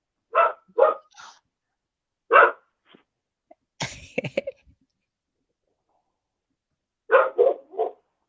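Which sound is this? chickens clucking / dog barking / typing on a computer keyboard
dog barking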